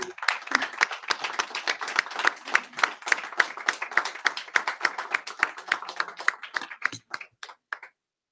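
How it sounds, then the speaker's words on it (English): A small audience at a talk applauds for the guest, brisk clapping from a modest group heard fairly close, thinning to a few scattered claps before stopping. "Another round of applause for Mary"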